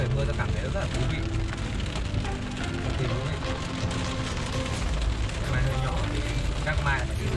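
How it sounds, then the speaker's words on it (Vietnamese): Heavy rain drumming on a Mercedes E350 AMG, heard from inside the cabin as a dense, continuous patter and hiss, with a person talking over it throughout. "Ngoài trời mưa rất là to"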